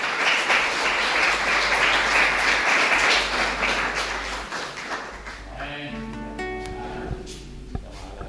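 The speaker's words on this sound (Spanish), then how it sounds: "Un fuerte aplauso para Bernarda." Congregation applauding during a Catholic Mass in a chapel in Lambaré, a dense, sustained burst of clapping that thins out after several seconds, with voices emerging as it fades.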